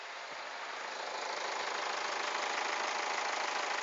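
A seven-year-old Kia Sportage R diesel engine idles steadily nearby with an even, hissing rumble and no voices.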